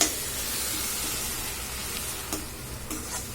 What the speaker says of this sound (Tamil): கோ இதில் அரைச்சி வச்ச தக்காளி பேஸ்ட்டை சேர்த்துக்கலாம்.